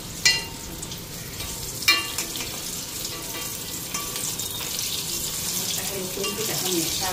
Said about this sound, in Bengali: এদিকে বেগুন ভাজাটা উল্টায় দিই।